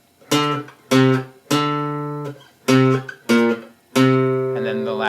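Bluesy guitar riff in G, six bright plucked attacks with ringing sustain and brief pauses, played up close without any voice.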